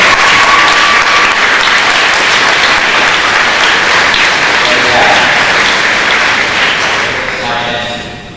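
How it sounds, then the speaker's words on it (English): Loud, sustained applause from an audience at an elementary school fifth-grade completion ceremony, dense clapping filling the room before tapering off near the end, with some voices in the crowd. "How about a nice round of applause for the National Fitness Award?"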